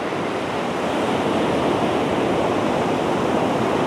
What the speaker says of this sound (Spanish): Hermoso cómo se escucha el sonido del mar,